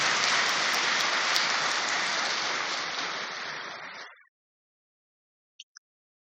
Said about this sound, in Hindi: अगर आप ताली बजाना चाहें तो कोई हर्ज नहीं है।